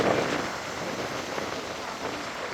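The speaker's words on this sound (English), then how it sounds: "It's so windy." Strong wind buffets the microphone by the sea where large waves are breaking, a steady loud broadband roar that fills the whole stretch with no pause.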